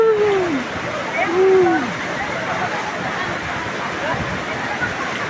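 Hulugan Falls pours down in a steady, full rush of water close by, while voices call and shout over the continuous roar.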